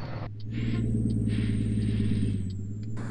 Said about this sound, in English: just a truck jumping across 3 lanes of traffic to make his exit